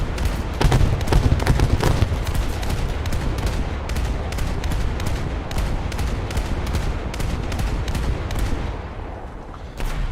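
Naval gunfire in an American coastal warfare video game: dense, continuous volleys of rapid shots and booms, loud and close, with heavier bursts early on and no talk.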